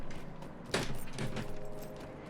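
A broken drawer is pulled open with a sharp wooden knock and scrape, followed by a second rattling slide and rummaging clatter, close and moderately loud.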